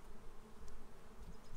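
Honeybees buzz faintly at hive frames holding freshly drawn comb, a low insect hum under soft background noise across a brief moment.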